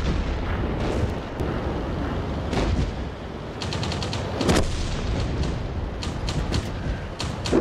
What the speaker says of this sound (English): Gotta fire a gun.